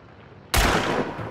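A single loud, close gunshot from a weapon in the video game Hunt: Showdown cracks out sharply, followed by a brief rumbling echo that slowly fades.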